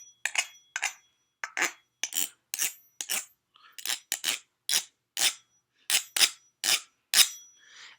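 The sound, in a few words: fork scraping textured lid of almond butter jar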